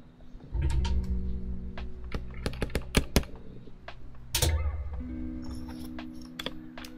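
Typing on a Risophy PC404 75% mechanical keyboard fitted with Huano Red switches and a PC plate, a run of close, crisp keystroke clacks in uneven bursts with a few heavier thocks, no talk.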